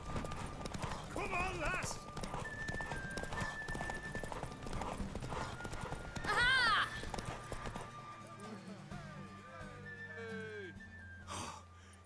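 Horse hooves galloping in The Witcher 3 during a horse race, rapid rhythmic clip-clop with neighs and heavy breathing, under a rider's shouted encouragement and game music.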